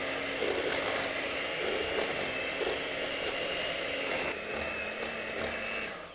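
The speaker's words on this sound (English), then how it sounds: "And now I'm going to use an electric mixer, and I'm going to beat all of this together." Electric mixer beating a meatball mixture with grated cheddar cheese, a steady high-pitched motor whine with slight wobbles as the beaters work, heard close and alone, tapering off at the end.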